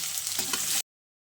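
Tomato, capsicum and onion frying in hot oil, heard as a steady close sizzle with some stirring noise, cut off abruptly after under a second.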